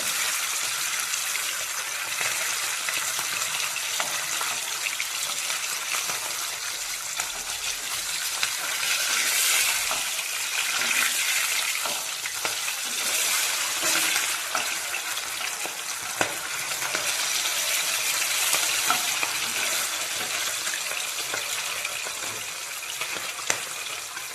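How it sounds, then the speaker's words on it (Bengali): Pabda fish frying in a pan and turned from side to side, giving a steady, close sizzle with occasional small clicks and pops throughout. "এক এক করে পাবদা মাছগুলোকে ভালো করে আমি এপাশ ওপাশ ভেজে নেব"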